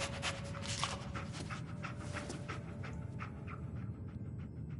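The dog Dogmeat in the video game Fallout 4 pants in quick, steady breaths against a constant noisy background, fairly faint and with no talk.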